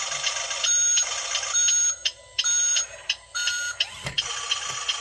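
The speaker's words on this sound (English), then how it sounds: "I think we have turn signal noises." Shrill electronic turn-signal chime from a licensed Suzuki Jimny 1/16-scale RC car's sound unit, repeating in loud on-off bursts with brief gaps, harsh and close, alone without talk.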